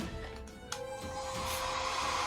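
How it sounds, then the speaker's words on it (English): A cheap hair dryer running steadily with a continuous whirring hum, fairly close, holding an even drone throughout with a small click near the start. "he's got a little hairdryer action"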